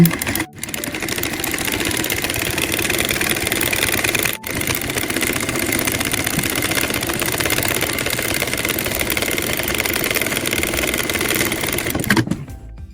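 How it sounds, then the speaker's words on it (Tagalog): Domestic sewing machine stitching buttonholes on a co-ord top, running as a steady, fast mechanical whir and clatter for nearly the whole stretch, with two very brief pauses, close and loud before stopping near the end. "pwede na po natin tapakan yung makina"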